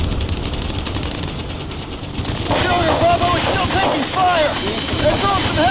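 Heavy machine-gun fire and artillery blasts rattle continuously in a war video game battle, dense and loud throughout, with shouted voices mixed into the chaos.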